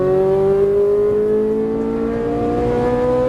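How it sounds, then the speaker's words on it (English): A Ferrari 458 Italia on track accelerates under full throttle, its engine note climbing steadily in a loud, continuous, close-up roar throughout. "Unwind, roll on the throttle all the way down."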